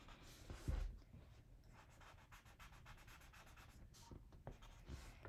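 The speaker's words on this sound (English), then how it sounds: "any lines that you don't want, just with the kneaded eraser" A kneaded eraser rubs across charcoal drawing lines on paper, giving soft, close scuffing strokes in an uneven rhythm with a slightly louder bump near the start.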